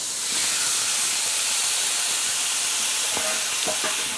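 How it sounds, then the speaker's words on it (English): A flank steak laid on a hot cast iron grill pan gives a loud, dense, steady hiss of sizzling fat and steam, close up, with a few small pops and taps near the end and no voices. "So we will take this entire piece and lay it on the grill pan."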